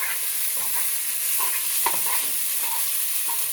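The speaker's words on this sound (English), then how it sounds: "So we're going to stir all those spices." Spices being stirred in a sizzling pot of gluten-free chili with ground sirloin, a steady close sizzle with scraping spoon strokes throughout, no talking.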